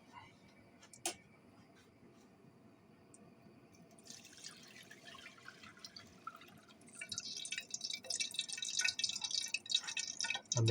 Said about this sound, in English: Now I'm going to put the oil back in the big pan.